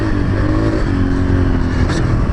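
Steady, loud drone of a Yamaha TTR 125 small dirt bike engine running close by, holding a fairly constant mid-pitched revving tone throughout.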